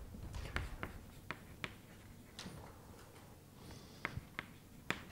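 Chalk or marker strokes on a board during a mathematics lecture: a dozen or so sharp taps and short scratches at an irregular rhythm, fairly quiet in a roomy space with no talking.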